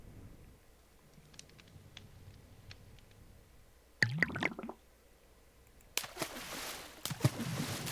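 An item tossed into the liquid of a crucible in a Minecraft magic modpack: a sudden wet squishing splash, then later a second bubbling, sloshing burst against a quiet background with faint ticks.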